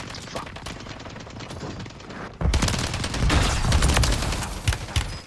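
Rapid gunfire rattles in a shooter game, first as fast distant bursts, then suddenly louder and closer with dense overlapping shots and heavy thumps that keep going to the end.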